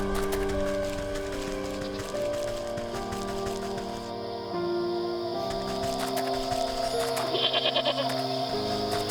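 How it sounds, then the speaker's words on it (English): Sheep bleat in the Wytchwood video game, with repeated wavering cries over steady game music and soft hoof-like taps toward the end. "And we can scare this sheep with it."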